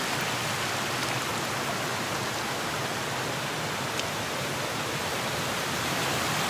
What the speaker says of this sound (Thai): น้ำตกสวยมาก